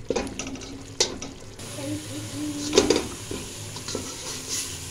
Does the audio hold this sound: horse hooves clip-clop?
no